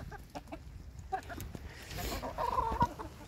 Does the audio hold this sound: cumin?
no